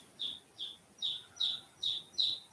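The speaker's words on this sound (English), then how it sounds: "I apologize if you can hear the chirping in the background." Baby chicks in a brooder chirp in a steady series of six bright, high peeps, evenly spaced about half a second apart, faint and alone against a quiet background.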